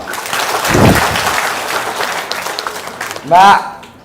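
An audience claps in a short, fairly loud burst that thins out over a few seconds, and a voice speaks briefly near the end.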